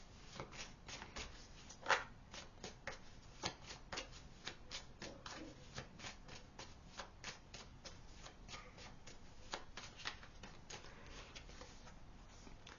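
Tarot cards being shuffled in a steady run of quick, crisp riffles and flicks, close and fairly quiet, continuing without talk.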